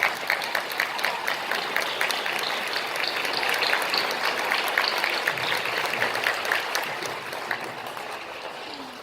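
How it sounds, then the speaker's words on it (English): Sustained audience applause filling a hall after an honor band concert at OU, dense steady clapping that holds for about nine seconds with a slight fade near the end. "so let's give them a special round of applause."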